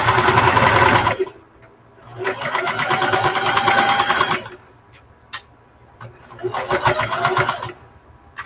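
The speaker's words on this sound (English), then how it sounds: "Now, you can go all the way around top stitching." Sewing machine top stitching around an arm nursing pillow, running in three loud bursts of rapid mechanical stitching separated by quiet pauses with small clicks and handling noises.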